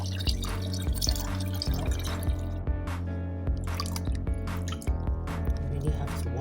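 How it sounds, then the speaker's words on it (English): Tigernuts washed by hand in a bowl of water, close wet sloshing, squishing and dripping with irregular splashes and rubbing of the nuts, under a low steady background hum. "You really have to wash this several times to make sure that there is no dirt."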